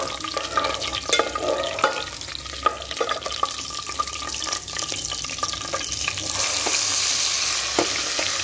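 Onion pieces browning in a hot pan give a steady close sizzle, with crackling pops and occasional stirring scrapes throughout, and no voices.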